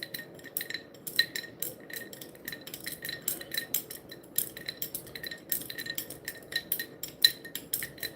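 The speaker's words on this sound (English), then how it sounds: "What you're listening is the ice cube." Ice cubes clink against the sides of a glass of caipirinha-like drink, forming a close, irregular stream of light chinks and taps with no talking.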